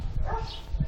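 Small playful dog yipping and barking in short bursts, close and fairly loud, with whimpery play noises.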